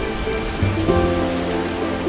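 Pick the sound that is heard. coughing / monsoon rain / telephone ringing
monsoon rain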